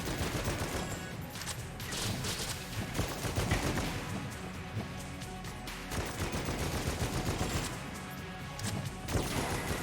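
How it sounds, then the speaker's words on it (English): Rapid automatic gunfire blasts almost nonstop in the Enter the Gungeon dungeon shooter, a loud dense stream of shots mixed with crashes and impacts, continuing across the whole stretch. "Who wants some of this machine gun shit?"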